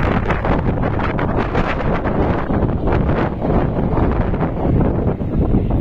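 Strong wind on the open meadow of Shiroka Polyana, Bulgaria, batters the microphone in a constant loud rumbling roar, with gusty pulses and no voices.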